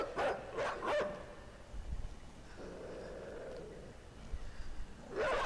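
A dog barks in a few sharp bursts near the start, falls quiet through the middle, then lets out another loud bark at the end.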